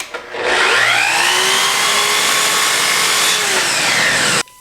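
A SawGear automated saw runs through a cut, making a loud, close, continuous whine with a sweeping tone for about four seconds before it stops abruptly.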